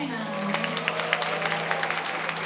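An audience at a shopping mall stage show claps for a child who has just sung, the scattered claps sitting under a steady hum and some talking.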